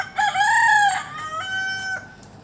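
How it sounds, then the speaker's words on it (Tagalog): A backyard rooster crows twice in quick succession, a clear, fairly close call with a rising first crow and a flatter second one in an otherwise quiet yard. "Mga alaga namin mga manok."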